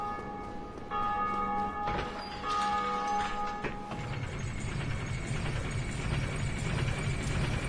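Church-like bells tolling in Dark Souls Remastered, a sustained metallic ring with lingering harmonics over a low rumbling ambient bed, with the tolling fading into steady background drone.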